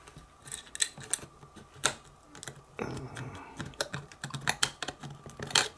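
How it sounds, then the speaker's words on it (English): Sticker being peeled off the back of a Logitech Squeezebox Boom internet radio, heard as a close series of quick crackling ticks and sharp little snaps with no talk. "I believe I need to remove the sticker from the back."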